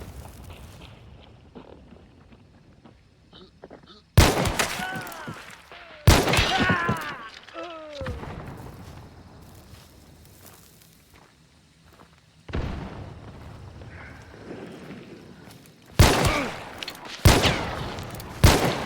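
Gunshots and explosions in the game Hunt Showdown, with sharp loud bursts arriving in irregular clusters and faint ambience between them.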